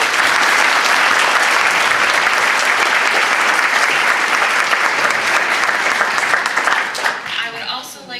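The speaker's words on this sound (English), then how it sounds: "So could we please have a round of applause for our very generous patron" A school theatre audience at a Guys and Dolls production gives dense, loud applause that holds steady for several seconds and then thins out as the clapping fades near the end.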